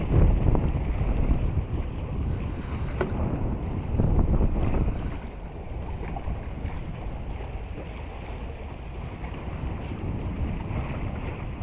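Steady wind rumbles and buffets across open water, a continuous broadband roar with gusts swelling and easing, no voices.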